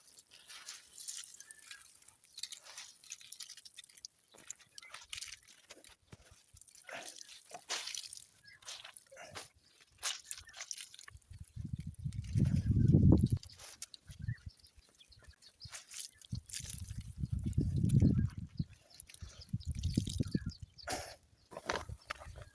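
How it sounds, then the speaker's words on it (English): Hand-washed clothes are squeezed and wrung out, giving wet squelches and bursts of dripping dirty water in a few heavier clusters, with quiet gaps and scattered small drips between them. "So now time to wring these out."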